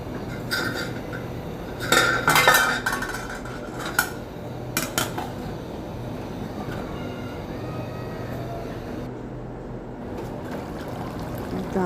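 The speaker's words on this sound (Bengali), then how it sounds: "এখন এটাকে ভালো মতো নাড়াচাড়া করে আবারও ঢেকে দিব।" Beef curry stirred in a pot, with a spoon clanking and scraping against the metal in a few sharp bursts, followed by a lid being set back on, over steady background noise from the stove and no talking.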